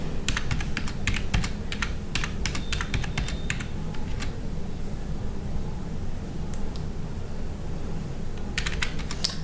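Rapid bursts of clicking on a computer keyboard as an interest rate is typed by hand into an Excel sheet, close and clear, in quick clusters with a pause in the middle and another flurry at the end.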